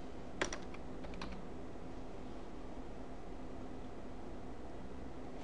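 A few quick bursts of keystrokes on a computer keyboard are heard while using an Ubuntu 12.04 desktop. The clicks come early and close, then give way to a steady low hiss with no talking.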